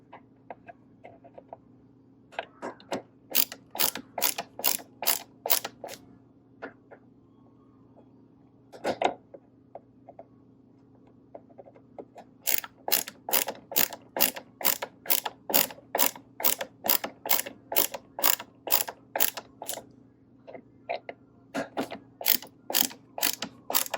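Screws being tightened while assembling the stand for a TCL Roku 43-inch 4K TV: rapid, close ratcheting clicks in repeated bursts with short pauses between, alone and without talk.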